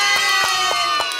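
Children in a group shout and cheer together, with a few sharp bursts at steady intervals that sound like claps. The crowd noise is loud and close and carries through the whole short moment.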